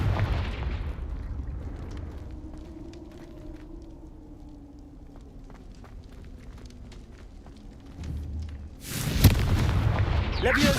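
Confringo fire spell in Hogwarts Legacy, cast amid a low rumbling battle with scattered small hits, then a loud, close fiery explosion bursting out near the end.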